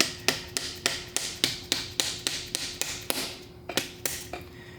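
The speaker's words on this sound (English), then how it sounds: "grab a plastic hammer." Steady, evenly spaced taps of a plastic hammer on a small block Chevrolet engine part, about a dozen sharp knocks close by, with no talking.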